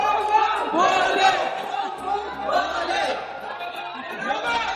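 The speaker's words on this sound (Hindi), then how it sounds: "अंदर पहुंचने के बाद सब लोग जोर जोर से नारा लगाने लगे।" Dense crowd inside the Mahakal temple in Ujjain, loud massed voices rising and falling in repeated chant-like surges, close and continuous throughout.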